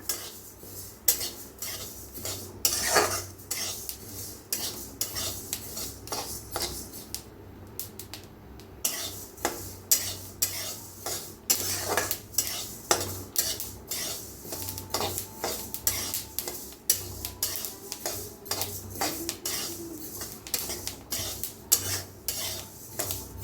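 Flax seeds dry-roast in a pan under constant stirring, giving a steady, fairly quiet scrape and rattle with frequent sharp clinks of the spoon against the metal pan, no voices.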